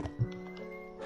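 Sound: horse in a survival video game

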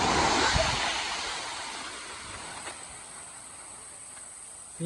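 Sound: waterfall rushing water

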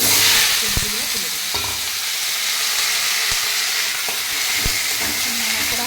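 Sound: black mustard seeds and five-spice sizzling in hot oil

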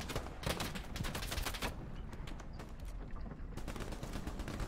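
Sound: rifle gunfire at an enemy machine gunner, from a video game

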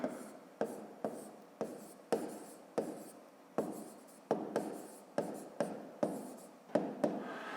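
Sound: writing a subtraction check by hand

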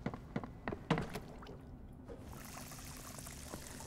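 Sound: getting more water, pouring water in video game Crime Scene Cleaner

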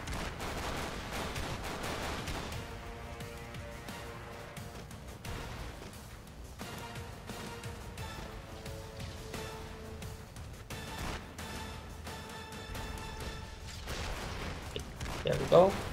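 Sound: gunfire in the video game Expendabros

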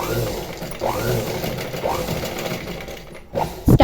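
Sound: sewing machine stitching thread piping

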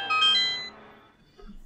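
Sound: mobile phone alert tone

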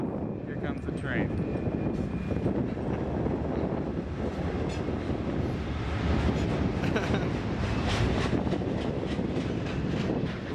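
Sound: train passing

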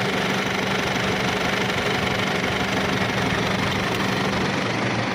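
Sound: Isuzu D-Max 2.5 2007 pickup diesel engine running

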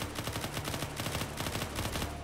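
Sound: gunfire in the video game Unturned

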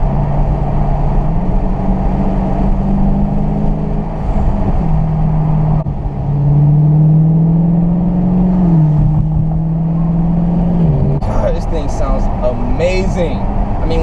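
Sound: V8 car exhaust accelerating and downshifting

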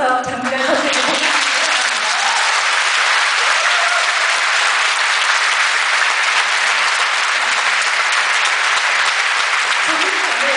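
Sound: applause

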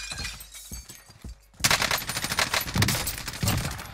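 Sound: gunfire from a gun in the video game Warzone

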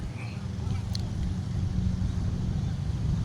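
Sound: tow boat engine at sea

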